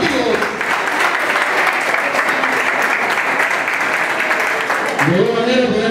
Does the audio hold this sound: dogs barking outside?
no